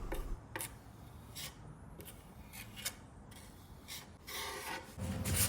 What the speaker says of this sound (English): When sanding down the wood filler, I like to use a 400 grit sandpaper